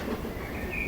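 A train runs on rails in a brief, steady rumble with faint rhythmic wheel clatter and a thin high squeal, heard alone at moderate distance.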